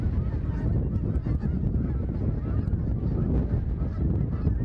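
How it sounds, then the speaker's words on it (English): A large flock of Canada geese, grounded on a windy shoreline, honks continuously in a dense, overlapping chorus, loud and close, with wind noise underneath. "a large flock of Canada geese found themselves grounded on the shoreline"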